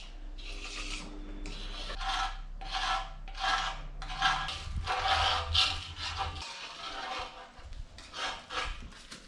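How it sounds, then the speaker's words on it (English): Window scraper scraping a coating off a 1951 Chevy front bumper, repeated rough rasping strokes in a steady rhythm, close and fairly loud, with no talk. "Just using like a window scraper to get the worst of it off."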